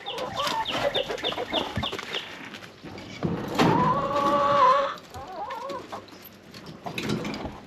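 Chickens clucking in a backyard chicken yard, a rapid run of clucks followed by a louder, longer squawking call and further scattered clucks nearby, with no speech.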